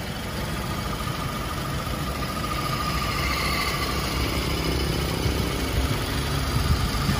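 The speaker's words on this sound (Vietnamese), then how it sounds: "Đấy, máy đang nổ đây." A 2008 Toyota Innova engine idles at a steady, even rumble, heard close and fairly loud throughout with no break or rev change.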